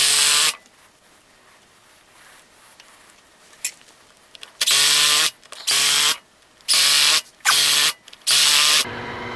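A power drill drives screws to fix a faceplate onto a wood vessel blank for a hollow form, with several loud whirring bursts of a few seconds each separated by pauses, one short burst early on.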